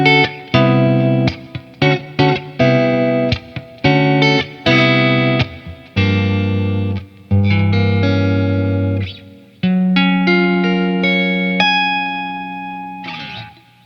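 An unusual electric guitar played clean on the neck pickup rings out as a series of plucked notes and chords, some cut short and others left to sustain and fade, clear and close with no voices.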